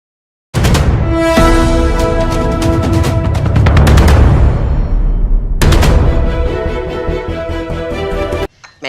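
Heavy gunfire in a street battle, rapid bursts of shots and booming blasts crowding together loudly, pausing briefly midway before another sustained volley, then cutting off abruptly.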